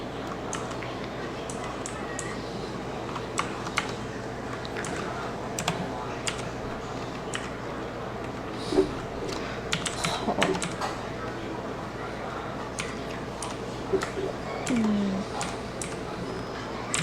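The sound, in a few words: typing on a computer keyboard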